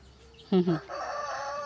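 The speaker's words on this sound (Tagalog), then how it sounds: "yung lalaki na manok" A single short rooster call rings out nearby, loud and brief, followed by softer clucking and faint background noise.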